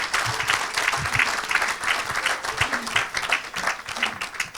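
Sustained applause and clapping from a congregation at a church service, a dense, steady wash of many hands that stays loud throughout with no pauses.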